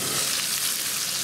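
Pieces of carp fry in a pan with a steady, close, bright sizzle that holds even and unbroken throughout, with no talking.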